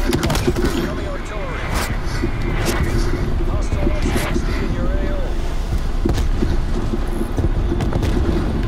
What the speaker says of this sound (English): Coming artillery.